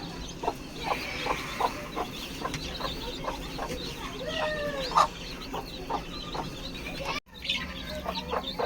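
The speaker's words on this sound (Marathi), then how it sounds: "आता कोंबडीने सर्व पिल्लं कशी घेतलेली आहेत त्यांना कशी आनंदामध्ये जवळ बोलवते कॉक कॉक करून" A hen clucks in soft repeated calls to her chicks, with other chicken sounds nearby over a quiet background.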